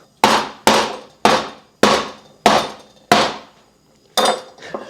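A lemongrass stalk gets pounded to bruise it, with seven sharp, loud thuds spaced about half a second apart, each ringing briefly before the next blow.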